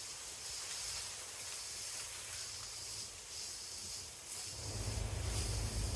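Cantonese chow mein noodles fry in a pan as they are twirled around, a steady soft hiss that swells louder and rumbles near the end.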